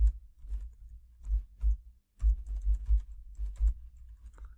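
An admin password being typed on a computer keyboard during a Check Point Gaia gateway installation, with irregular clusters of soft key taps, a short pause midway, then a quicker run of presses, close and quiet.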